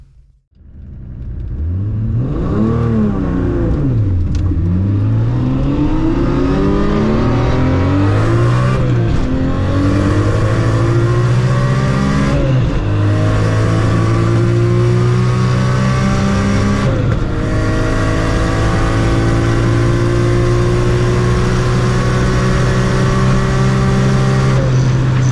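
A manual car with a boosted 2J engine accelerates hard on a half-mile test run, its loud engine tone climbing through several gear changes with brief dips, then holding a high, strained roar.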